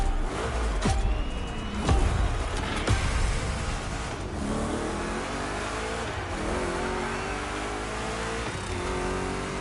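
Two Chevrolet big block cars race in The Crew Motorfest with loud revving engines and sharp transient knocks and squeals, the engine drone rising and shifting in pitch continuously, with no talk.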